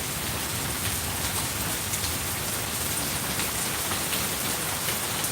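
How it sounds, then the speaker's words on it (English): Steady, fairly loud rain falls outside by a back porch, a dense even patter with no pauses and no voices. "Listen to the rain."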